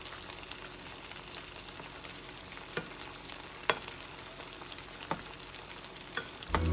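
Chicken frying in a pan just after being flipped, a steady close sizzle and crackle with scattered sharper pops and small clicks, no voices over it.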